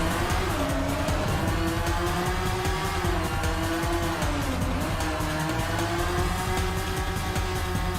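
Race cars in the video game Rage Racer roar while overtaking, their engines droning loud and steady with tire squeal and shifting pitch throughout.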